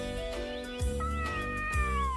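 A stray cat meows in a few drawn-out, wavering cries, close and loud with a pitch that slides up and down, and nothing else is heard.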